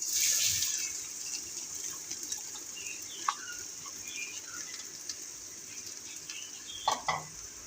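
Chopped onions sizzle steadily in hot oil in a pan, the oil left over from frying eggs for an egg masala gravy, with a constant bright hiss and a few soft stirring clicks.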